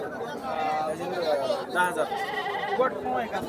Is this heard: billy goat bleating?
yes